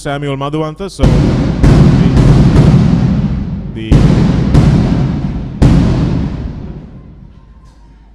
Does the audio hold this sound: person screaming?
no